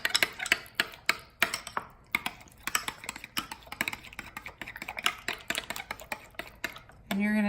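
Dijon and yellow mustard being stirred together for a salad dressing, a quick run of light clicking and tapping strokes from a utensil against a bowl, close and fairly quiet, ending in a brief louder scrape.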